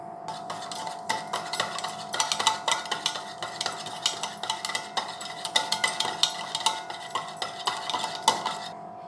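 Curd, oil and powdered sugar stirred together in a bowl for eggless sponge cake batter, a steady run of close scraping and clinking strokes with no voices.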